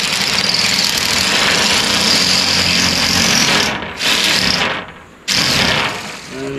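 A metal-cutting tool chatters in a loud, steady grinding rattle while cutting two pieces of metal patio skirting at once, briefly stalling twice near the end before picking up again.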